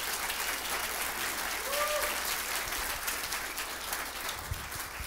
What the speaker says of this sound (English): let's give a round of applause for Haywood Epoxy